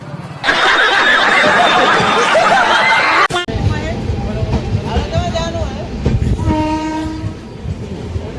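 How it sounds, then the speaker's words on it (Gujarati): A passenger train pulling into a station on a trip to Dwarka, with a loud horn blast at first, then heavy rumbling and clattering wheels, a long tonal horn call near the end and people talking over it. "ટ્રેન આવી ગઈ છે આપણી"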